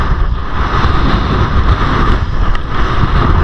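Strong wind roars steadily and loudly across the microphone on the coast near a waterfall, with a broad rushing noise like open water nearby.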